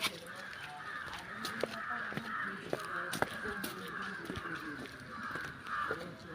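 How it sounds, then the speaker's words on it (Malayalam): Crows caw repeatedly in Ooty, harsh calls overlapping at mid distance in an irregular rhythm over a faint outdoor background, with no talking. "അവിടെ ഊട്ടിയിൽ മാത്രമേ കാക്കനെ കാണാൻ പറ്റുള്ളൂ."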